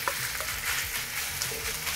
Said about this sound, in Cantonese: 落油，牛肉，